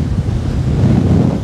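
Strong gusting wind buffets the microphone at a coastal calvary, a loud continuous low roar with rumbling surges and no voices.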